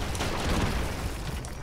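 Explosions in the Broforce video game: a brief, continuous wall of loud booms and crackling blasts with a heavy low-end rumble and no pauses.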